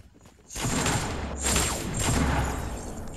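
Dense, sustained gunfire from a Fortnite match at Tilted Towers, loud and continuous after a brief quiet start, with overlapping shots and thuds and no talk.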